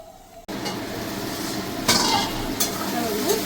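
Spice paste sautéed and stirred in a pan for a vegetarian long-bean and aubergine curry, a steady close sizzle with scraping stirs and a brief clink of utensils.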